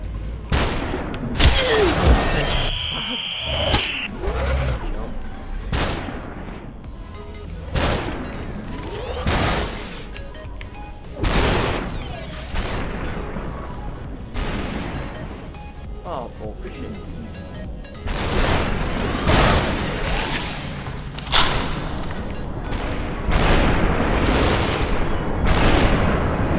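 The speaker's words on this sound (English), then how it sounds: "Why is everyone shooting?" Rapid bursts of gunfire and booming shots in the video game Superhot, loud and close, repeating in clustered volleys with shattering impacts throughout.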